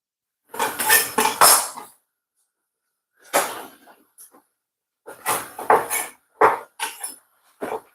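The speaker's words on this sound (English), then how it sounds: "So I'm chopping up some ginger." Knife chopping ginger on a cutting board in a home kitchen, several clusters of close, sharp clacking and tapping strikes separated by pauses of silence, with no talking.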